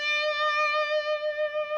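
A sustained, bright electric guitar note bends upward and stays raised, wavering slightly without dropping back to its starting pitch; steady and fairly loud.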